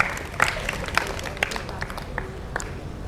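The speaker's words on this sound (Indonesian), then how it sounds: "Beri tepuk tangan lagi" Scattered applause from students in a classroom, a few uneven claps rising and fading under faint background murmur, fairly quiet and thin rather than a full ovation.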